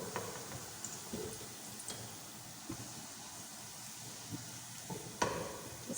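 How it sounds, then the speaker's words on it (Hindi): Chopped onion frying in a cup of oil in a large pot, a faint steady sizzle broken by a few soft ticks and scrapes of stirring, with no voices. "इसमें 1 कप ऑयल डाल दिया है, 1 कप तेल डाल के, और इसमें मैंने एक छोटी अनियन काट के डाल दी चॉप करके।"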